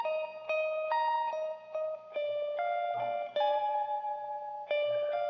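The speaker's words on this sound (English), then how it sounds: "Really enjoying those guitar tones once again." An effects-laden electric guitar riff from a progressive rock band plays as a sequence of clean, sustained melodic notes with echo and chorus shimmer, steady and prominent throughout.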